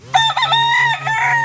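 A farmyard rooster crows once, loud and close, a drawn-out harmonic call lasting over a second.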